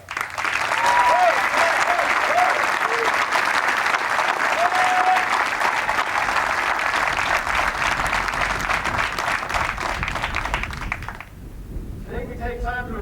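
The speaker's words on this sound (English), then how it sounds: "Please join me in a round of applause for Strike." A large crowd applauds soldiers on the field at a 2nd Brigade change of command ceremony at Fort Campbell. Dense, loud, sustained clapping lasts about eleven seconds, then drops off abruptly.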